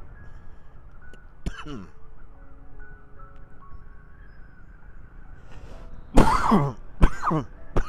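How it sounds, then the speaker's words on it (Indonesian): Two sharp coughs, one early and a louder pair near the end, with a throat-clearing rasp against a quiet outdoor background in Tarusan, Pesisir Selatan, Indonesia. "Mohon maaf ya, agak batuk sedikit."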